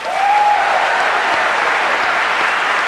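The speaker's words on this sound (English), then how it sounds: "Give yourselves a big round of applause" Big round of applause from a live show audience in Springfield, loud and sustained dense clapping with a faint tone at the start, no talk over it.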